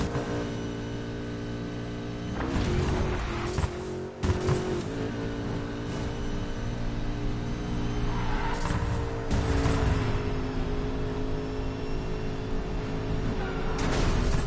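McLaren 570S coupe supercar engine in the racing game Need for Speed Payback, a steady droning roar with revving surges and brief tire noise, running continuously and loud throughout.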